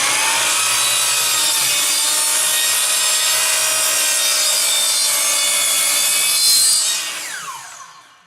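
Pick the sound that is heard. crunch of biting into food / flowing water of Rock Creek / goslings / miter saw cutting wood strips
miter saw cutting wood strips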